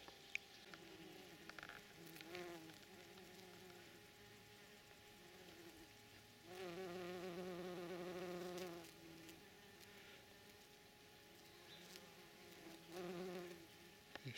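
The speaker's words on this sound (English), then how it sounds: "the bees love it" Bees buzz around flowering birdfoot trefoil in a summer garden, a low drone with several louder passes as insects fly close by. It is faint and outdoors, and no one speaks.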